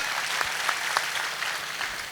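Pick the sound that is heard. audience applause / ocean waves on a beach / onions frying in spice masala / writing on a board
audience applause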